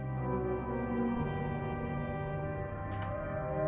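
Player-leave cue from the No More Room in Hell 2 game lobby: a shift in the low drone followed by a brief airy swish, set within steady ambient music.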